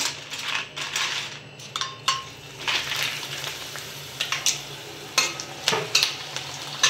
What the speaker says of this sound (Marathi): वेफर्स तळायला काही जास्ती वेळ लागत नाही आणि जास्त तेलही खूप गरम लागत नाही